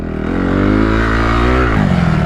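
Motorcycle engine under way, a loud, close, continuous drone whose pitch climbs and holds through a gear before shifting down near the end, with no voices.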